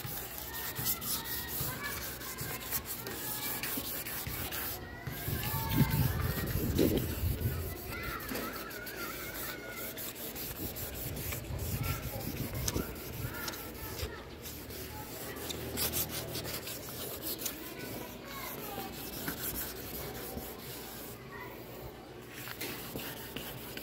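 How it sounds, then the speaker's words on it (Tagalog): Sandpaper rubbed over a painted Yamaha NMAX scooter panel makes a continuous, fairly faint scratchy rasping with uneven strokes, while crows caw in the background. "So lilihain lang natin."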